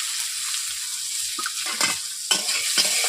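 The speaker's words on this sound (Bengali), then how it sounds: "এতে আমি দিয়ে দিচ্ছি পেঁয়াজ।" Onions are dropped into hot oil with reddened whole spices and stirred while frying for drumstick-leaf greens, making a bright, continuous sizzle with clattering spatula scrapes every half second or so.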